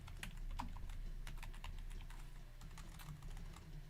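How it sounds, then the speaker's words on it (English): Rapid, irregular key clicks from typing on a computer keyboard patter along steadily at close range over a low background hum, with no voices. "How am I typing?"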